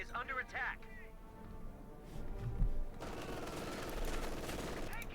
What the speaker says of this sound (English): Machine gun there firing away.